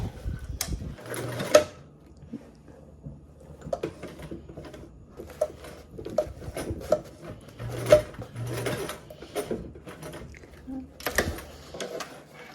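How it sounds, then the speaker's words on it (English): A sewing machine stitches bias tape down onto a bottom exterior panel, running in short uneven bursts of rapid needle clatter with brief pauses and handling rustles between them. "you are going to go ahead and stitch down your bias tape to your bottom exterior panel"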